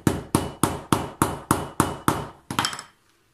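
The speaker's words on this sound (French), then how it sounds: "Et petit coup de marteau." Hammer striking a metal setting tool, likely setting a snap or rivet on a leather card holder: eight evenly spaced sharp, loud strikes, then a quicker flurry of lighter taps before silence.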